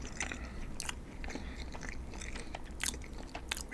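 Someone eats Chicago deep dish pizza close to the mic, with soft bites, wet chewing and crunchy crust crackles in quick, uneven bursts over a faint background hiss, and no talking.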